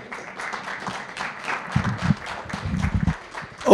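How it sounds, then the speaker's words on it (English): A crowd at a high school college athletic signing ceremony claps in a dense, uneven round of applause lasting a few seconds. "let's have another round of applause for all of our students, athletes, coaches, parents."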